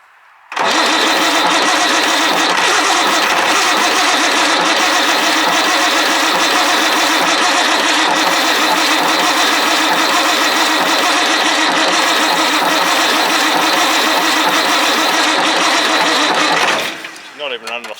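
An old Perkins diesel engine, left unused for many years, is wound over by hand and catches, then runs loud and steady with a dense clattering drone before cutting out abruptly near the end.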